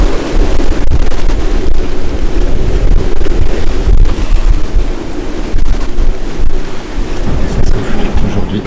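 Strong gusts roar steadily over big waves on the North Atlantic near Greenland, a loud continuous wash of wind and churning sea with buffeting on the microphone and no voices.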